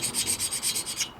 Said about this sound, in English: This is a carbide tipped gasket scraper.